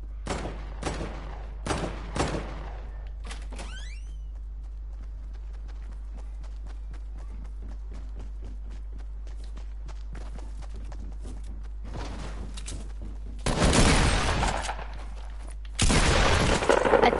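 Bursts of rapid gunfire from a shooter video game: a few sharp cracks early on, then two dense, loud volleys of shots near the end, with quiet stretches in between.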